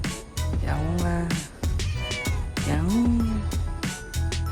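A stray street cat meows repeatedly up close, giving several drawn-out, rising and falling cries in quick succession with short pauses between them.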